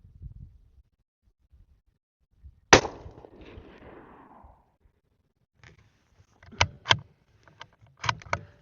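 A CZ 457 American rifle in .17 HMR fires a single sharp, loud shot that trails off in a short echo. Quieter metallic clicks and clacks follow as the bolt is cycled.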